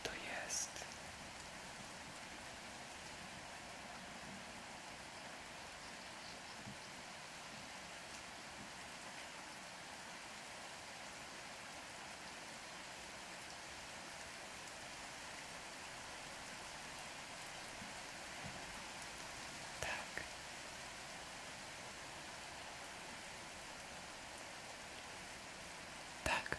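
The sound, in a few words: rain sounds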